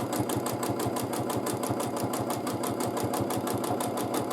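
A sewing machine stitches free-motion quilting in droplet shapes, with a fast, steady needle chatter that stays close and even throughout and no voices.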